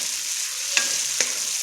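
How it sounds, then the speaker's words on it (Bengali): Cauliflower and potato fry with spices in a pan, a steady close sizzle with two sharp scraping strokes of the spatula as the mixture is stirred, no voices. "বন্ধুরা ভালো করে কষিয়ে নিচ্ছে ফুলকপি আলুটা।"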